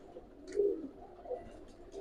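Young Pakistani high flyer Teddy pigeon chicks give a couple of soft, faint coos close by, short low murmurs with brief higher chirps over quiet background.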